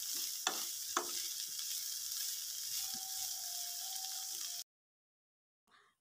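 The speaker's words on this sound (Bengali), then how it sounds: "পটল খুব ভালোভাবে ধুয়ে পানি ঝরিয়ে খোসাগুলোকে ছাড়িয়ে রেখেছিলাম, সেগুলো এখন পেঁয়াজ রসুনের সাথে ভেজে নিচ্ছি।" Pointed gourd peels frying with onion and garlic: a soft, steady sizzle with a couple of early spatula taps, fairly faint and close, then it cuts to near silence with a brief rustle at the end.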